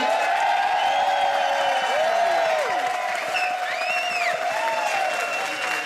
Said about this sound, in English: Now, Mark, listen to that applause.